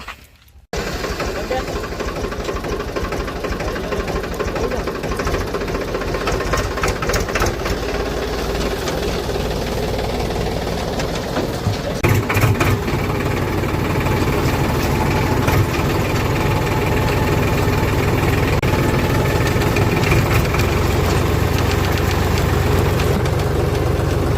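A Powertrac tractor engine runs continuously with a steady, rumbling drone that starts abruptly and holds for over twenty seconds, growing slightly heavier partway through.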